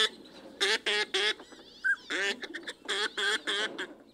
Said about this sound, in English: The pintail is arguably the most elegant waterfowl in Arizona.